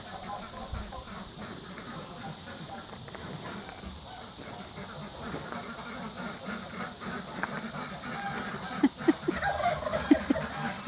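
Turkeys gobble in a noisy poultry colony, repeated bursts close and far over a busy background of other fowl and rustling, growing louder toward the end.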